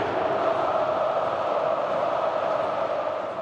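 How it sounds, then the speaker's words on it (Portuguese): A dense, steady roar of Cruzeiro football fans chanting for Gabigol in a stadium, a distant massed crowd sound holding evenly throughout. "A torcida do Cruzeiro pedia Gabigol."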